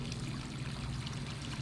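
Water pouring steadily off the edge of an overflowing 40-gallon tank, a continuous close splashing stream with no break.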